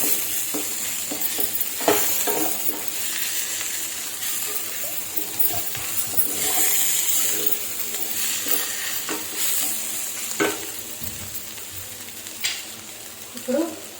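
A curry mixture for mushroom curry fries in a pan with a continuous sizzle, punctuated by clattering stirs and spatula knocks against the pan.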